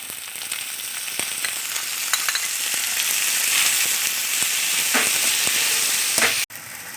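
Steady close-up sizzling of tomatoes sautéing in a pan, with occasional stirring clicks and scrapes throughout.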